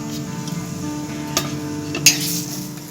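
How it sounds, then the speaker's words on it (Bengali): Ground spices and coriander powder sizzle as they fry in hot oil, a steady close hiss running throughout, with a couple of brief clinks from a utensil against the pan. "এরপর আমি তেলের মধ্যে গুঁড়োগুলো আগে দিয়ে দিচ্ছি গুঁড়ো মশলাগুলো দিয়ে দিচ্ছি"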